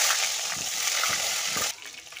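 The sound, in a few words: potatoes frying in oil in a pan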